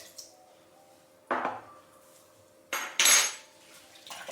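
A few sharp metallic clinks and scrapes of a spoon stirring a salted liquid mixture in a pot or bowl, spaced irregularly with quiet gaps between.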